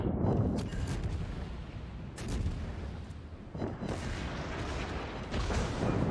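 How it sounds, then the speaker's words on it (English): Naval gun salvo in the World of Warships video game: heavy, rumbling booms overlapping in a dense, continuous roar with a few sharper blasts standing out, loud and close. "Very solid opening salvo here"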